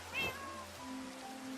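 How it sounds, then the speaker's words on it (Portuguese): A single short cat meow rises and falls, the sound cat boots make when the wearer is hit in Minecraft, followed by quiet background tones. "Y cuando te pegan hacen como gatos."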